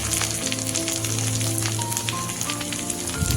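Sliced onions with slit green chilies frying in a pan for a ridge gourd and egg curry, a steady close sizzle and crackle running throughout with no talk.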